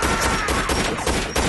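Rapid loud gunfire from a Family Guy cartoon scene, a burst of several close shots in quick succession.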